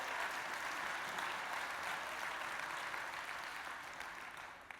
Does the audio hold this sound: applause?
yes